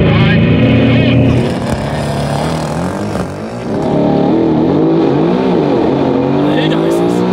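A 1300 hp Mercedes W205 C63 4Matic+ launches hard, its engine roaring loud and close as revs climb through a gear change with a brief dip. Excited voices talk over the noise.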